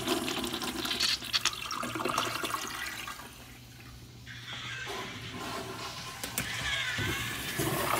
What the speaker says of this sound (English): These are usually good, but this one does not flush out for some reason